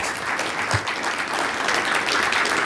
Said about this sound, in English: so the online audience can hear the applause